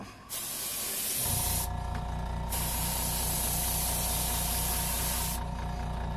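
An airbrush sprays Space Dust colour-shift paint onto a Whopper Plopper fishing lure in a steady, close, loud hiss, broken by two short pauses and a compressor hum running underneath.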